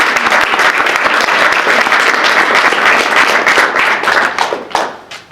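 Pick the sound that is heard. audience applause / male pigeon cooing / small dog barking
audience applause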